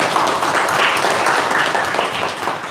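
A church congregation claps for members' wedding anniversaries during a Sunday morning worship service, a dense, steady round of applause that holds at an even level throughout.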